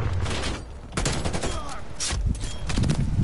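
Loud automatic gunfire in Call of Duty Cold War on PS4, sustained rattling bursts with a brief lull before the shooting resumes, close and dominant throughout.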